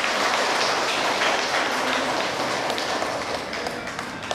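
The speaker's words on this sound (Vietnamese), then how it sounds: "Chúng ta lại xin một tràng pháo tay ạ." Steady, dense applause from members gathered at the Triều Khúc yoga club event, a continuous wash of many hands clapping at fairly close range that keeps going throughout and eases slightly near the end.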